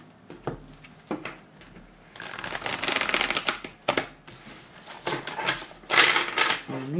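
A deck of oracle cards is shuffled by hand during a full-moon reading, with bursts of riffling and sliding cards punctuated by soft taps on a table, close and fairly loud, with brief pauses between bursts.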